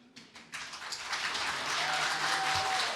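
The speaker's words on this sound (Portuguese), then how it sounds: "Obrigado pelas palmas, pode bater mais." Applause in a municipal council chamber during a session, starting with a few scattered claps and swelling into steady, dense clapping from a moderately near crowd that holds at full strength to the end.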